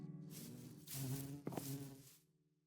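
Mini bees in the Minecraft Feed The Bees mod buzz in a continuous, droning hum lasting about two seconds, steady and fairly close, then fading out at the end.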